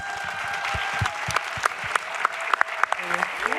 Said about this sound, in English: So I'm going to join the applause for you all.